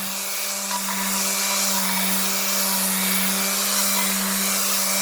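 A steady, continuous whine of a sander grinding rust off a vintage rail plate, with a constant drone and hum that holds evenly throughout and no talking.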